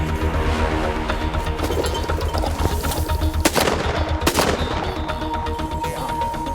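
Gunshots ring out during an outdoor hunt, loud cracks over a continuous dense outdoor background, with a couple of sharper reports standing out midway.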